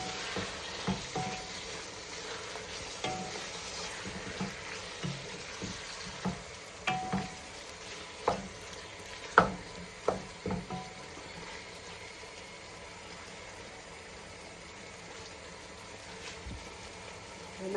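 Coriander frying and being stirred in a biryani pan, with a steady low sizzle broken by scattered scrapes and taps of a utensil against the pan, fairly faint, with no talk.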